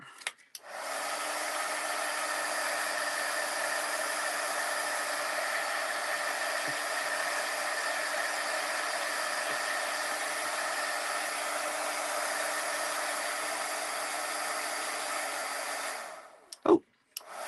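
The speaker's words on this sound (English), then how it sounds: "we're going to have to heat set this just a second" An embossing heat tool runs steadily for about sixteen seconds, heat-setting embossing powder on small craft pieces, a loud continuous blowing whoosh with a faint hum, then it cuts off.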